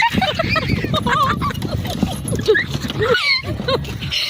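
A ridden horse's hooves clop along at a walking pace while several people talk and call out over them.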